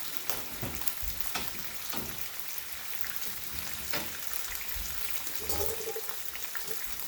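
Rice noodles stir-frying in a hot pan for pad see ew, a steady dense sizzle with scattered clinks and scrapes of stirring throughout.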